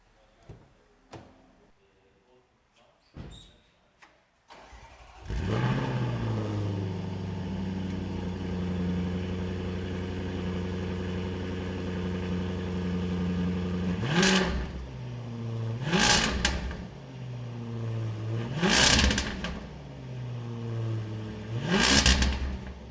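Engine of a Land Rover Defender 110 with a custom exhaust replacing the stock resonator starts after a few clicks, settles into a steady idle, then blips through four sharp revs near the end.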